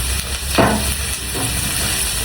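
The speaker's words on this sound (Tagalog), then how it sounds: "Madali kasing masunog guys ang bawang, kaya inuunan ko talaga ang sibuyas sa paggigisa para sabay silang maluluto" Onion and garlic sizzle steadily in oil in a home kitchen pan, with a couple of brief louder bursts as the pieces are stirred.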